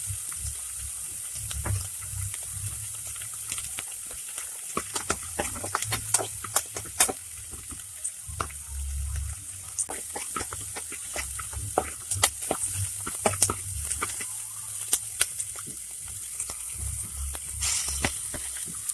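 Onions frying in hot oil for pineapple fried rice, a steady crackling sizzle that runs throughout, broken by sharp spatula scrapes and clinks against the pan. Close and fairly loud, with no talk.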